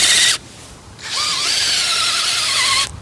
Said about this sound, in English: this really big auger was better for the tulip bulb